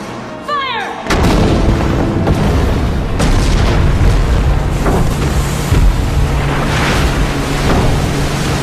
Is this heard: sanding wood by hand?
no